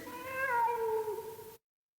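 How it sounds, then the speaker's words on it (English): A single house cat meows once, a clear, drawn-out tonal cry about a second and a half long, close by and alone in an otherwise quiet indoor setting. "A cat. It was only a cat."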